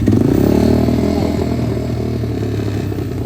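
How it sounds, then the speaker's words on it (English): The engine of a Typhoon 125 mini trike running with the choke pulled, a loud, close, steady motorcycle-like putter that holds continuous throughout, with no talking. "So I'm gonna pull the choke. Hopefully it'll want to fire back up."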